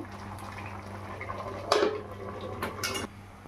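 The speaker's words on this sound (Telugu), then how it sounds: "ఈ నీళ్ళు అనేవి ఇప్పుడు బాగా మరిగించుకోవాలండి" Water for chicken dum biryani rice bubbles in a pot at a low, steady boil, with a couple of brief metallic clanks from the pot or lid standing out.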